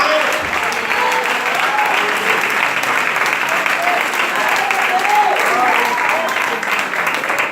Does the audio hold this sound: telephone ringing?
no